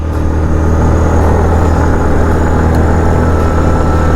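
A 2020 Yamaha Kodiak 450 EPS SE ATV with an Ultramatic transmission runs on a test ride, giving a loud, close, steady engine drone mixed with rushing wind noise.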